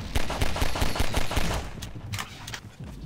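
Rapid pistol fire in Half-Life 2, a steady rhythm of close, loud shots for about a second and a half, then sparser scattered shots fading under game noise.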